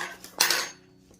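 Metal teaspoons clink and scrape against a dish in a quick burst while stirring sugar and liquid for Armenian gata dough, then the clatter fades to quiet.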